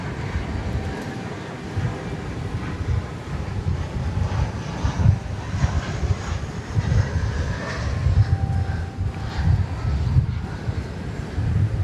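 An aircraft passes at DFW Airport: a broad, rumbling jet roar swells and churns at a distance, buffeted by wind noise across the microphone, with no talking.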